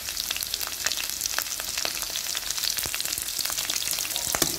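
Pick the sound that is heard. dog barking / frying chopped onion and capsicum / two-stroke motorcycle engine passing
frying chopped onion and capsicum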